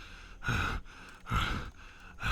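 A voice imitates slight panting: three soft, breathy exhalations at an even rhythm, close to the microphone, with brief quiet pauses between them and no words spoken.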